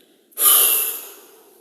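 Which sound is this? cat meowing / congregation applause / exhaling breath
exhaling breath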